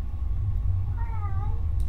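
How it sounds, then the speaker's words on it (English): A pet cat gives one short, faint meow with a slightly falling pitch, heard over a steady low background rumble. "can you hear my cat?"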